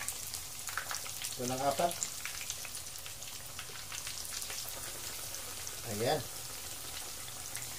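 Chicken cordon bleu pieces frying in hot oil in a pan, giving a steady, moderate crackling sizzle with people talking over it at times.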